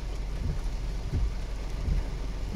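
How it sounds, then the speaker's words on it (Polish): Heavy rain pours steadily through a night thunderstorm over Olsztyn, with low rumbling swells beneath a dense, even hiss and no voices. "szkoda, że tak leje"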